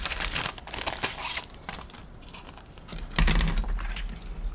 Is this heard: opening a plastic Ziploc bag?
yes